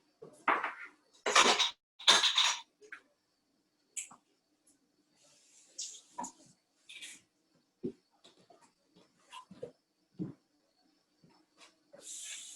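Salad is mixed with lemon and salt in a bowl, producing scattered clinks and scraping bursts of utensils against the bowl, loudest early on then sparser, close and mostly without talk.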